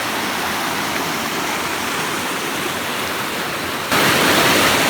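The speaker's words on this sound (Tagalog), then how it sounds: "Grabe ni siya ka fresh nga tubig." Fresh stream water flowing on a mountain at Sitio Milanao, a loud, steady rushing close by that swells slightly louder in the final second, with no voices.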